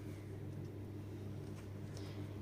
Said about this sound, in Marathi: तर आता मिक्सरला ग्राइंड करून घेऊया